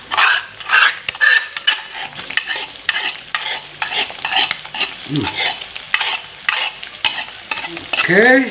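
Chilies crackle and sizzle in a pan for fried noodles with jengkol, stirred with rhythmic scraping and clattering; a close, busy frying sound with a brief spoken word near the start.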